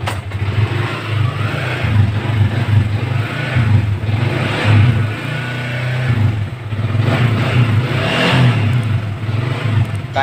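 A Yamaha Vixion motorcycle engine runs close by, a loud steady rumble with a few gentle rises in revs and no talking.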